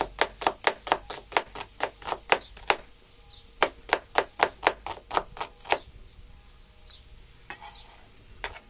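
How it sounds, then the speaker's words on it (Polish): Rapid, rhythmic knife chops strike a cutting board in quick bursts as a white onion is sliced into thin strips, pausing briefly before another run of evenly spaced cuts. "pokroję po prostu w piórka."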